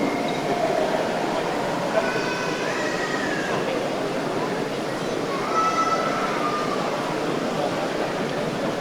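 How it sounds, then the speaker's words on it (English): A model railway train runs along a layout at a railway modelling exhibition, giving a continuous rolling rumble with faint high wheel squeals drifting in and out and voices murmuring in the background. "I thought those of you that like counting the number of wagons on a train would like to do this."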